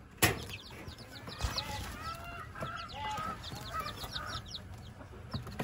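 Chicks cheeping in a box under a lamp, high thin peeps repeating steadily near at hand while a hen clucks and a rooster is faintly heard, no talking.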